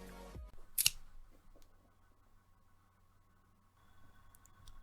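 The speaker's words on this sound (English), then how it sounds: "Actually, maybe if we just cut them." Scissors snip through tangled computer wires in one quick, sharp cut near the start, close and otherwise quiet, followed by faint room hum.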